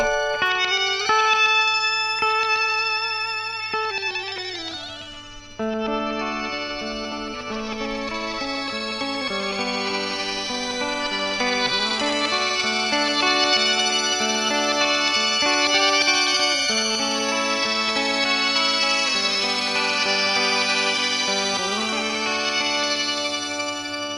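Electric guitar through a Boss PS-3 pitch shifter delay with reverb, sustained layered harmonized notes washing into shimmering repeats, loud and continuous with a brief dip midway.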